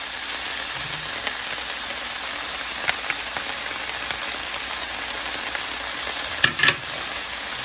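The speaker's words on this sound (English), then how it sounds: "Let's add the garlic." Garlic hitting a hot pan already cooking sausage and peppers gives a steady bright sizzle and crackle throughout, with a few sharper pops near the end and no talking.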